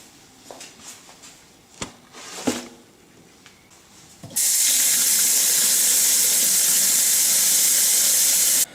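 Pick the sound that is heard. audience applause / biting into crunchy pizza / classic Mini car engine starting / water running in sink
water running in sink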